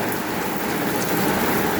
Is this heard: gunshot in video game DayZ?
no